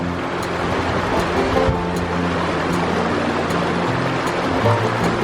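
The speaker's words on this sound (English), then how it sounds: "This is the Elbow River, the mighty, mighty Elbow River." The Elbow River in Kananaskis Country, Canadian Rockies, rushes in a loud, steady broadband roar of flowing water, close by and constant, with no voices.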